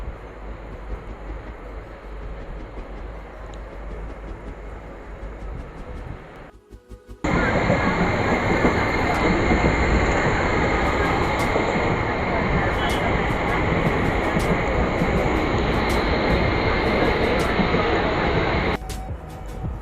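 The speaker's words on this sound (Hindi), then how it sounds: "ये मेरी ट्रेन आ चुकी थी, करीबन 6:19 की थी, तो उसमें मैं बैठी हुई थी और घर जा रही थी।" Inside a moving commuter train heading home in the evening, a steady loud rumble and roar of wheels on rails runs continuously, with quieter platform ambience before the carriage noise swells and a brief rise in level near the end.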